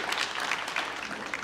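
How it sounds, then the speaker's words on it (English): An audience at a 1 Million Cups Brownsville event claps in a dense, even burst of applause that carries through the whole short stretch. "Let's give it a round of applause for that,"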